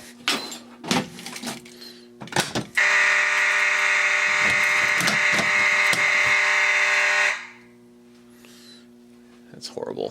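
During a walk test, a Notifier AFP-100 fire alarm panel sounds a loud, steady electronic alarm tone for about five seconds, with talk and clunks just before and after it.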